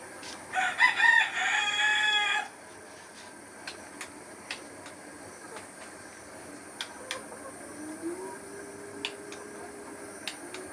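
Layer hens on an integrated farm give a brief burst of clucking and crowing at the start, then fade into scattered soft clicks and faint background noise.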